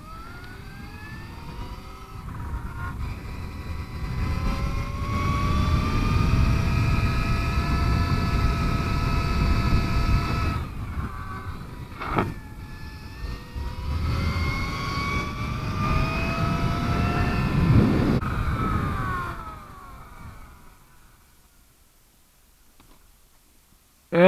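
A motorcycle engine works through a roundabout training drill, its revs rising and falling in smooth sweeps as the throttle is worked, staying fairly close before fading away toward the end.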